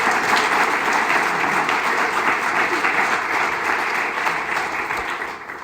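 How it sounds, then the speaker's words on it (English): Sustained applause from an audience, dense clapping at a steady level that tapers slightly toward the end. "So how about a round of applause for Maurice?"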